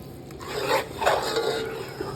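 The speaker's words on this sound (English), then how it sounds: "Now we're gonna stir it up one more time." Chopped spinach being stirred in a pan, giving a soft, continuous scraping and rubbing with light utensil contact, close and moderately loud with no talk.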